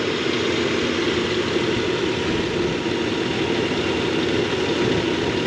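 A 1995 Nissan Pathfinder XE with 78k miles idles under the open hood, giving a steady, even engine hum with no change in pitch and no voices.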